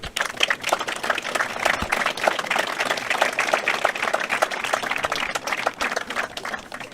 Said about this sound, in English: So just give yourselves a big round of applause there.